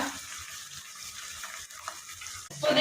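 Spices frying in hot oil for egg rice, a steady soft sizzle and crackle running throughout at moderate level, with a few light stirring scrapes and a louder burst near the end.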